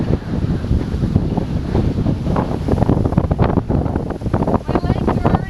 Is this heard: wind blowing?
yes